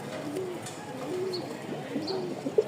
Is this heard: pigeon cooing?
yes